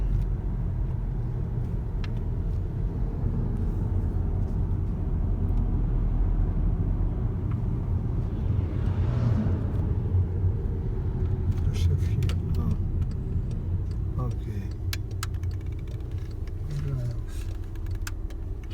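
A used car engine with about 300,000 km on it idles steadily with a low rumble throughout, joined by faint clicks and rattles in the cabin.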